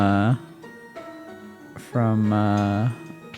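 Raid alert jingle built around Toad from Super Mario Sunshine: two short, bright harmonic voice bursts, one at the start and one near the end, each about a second long, with quiet game sound between them.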